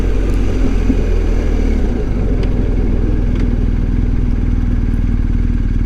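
BMW R 1250 GS Adventure motorcycle ridden on an early morning ride, a loud steady boxer-engine drone and rumble with wind noise, heard from the rider's position without talking.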